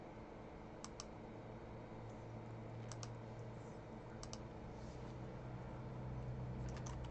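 Keys clatter on a computer keyboard while someone types into a Word document, sparse clusters of soft clicks spread over a steady low hum in a quiet room.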